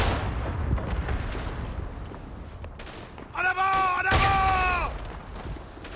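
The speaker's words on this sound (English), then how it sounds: "Ah, I got the two guys with my grenade." In the WWI shooter Verdun, a thrown grenade bursts with loud, sharp blasts amid distant battlefield gunfire, followed by a lingering ringing tone.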